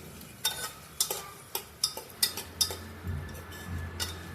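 Peanuts and other ingredients stirred in hot oil for masale bhat: a spoon scrapes and clinks against the pan in a steady rhythm of about eight sharp strokes, with a soft sizzle underneath, close and clear, no talking.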